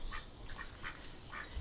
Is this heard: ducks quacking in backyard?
yes